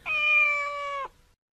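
A single clear, drawn-out cat meow with a steady tone lasting about a second, close and loud against near silence, ending with a brief drop in pitch.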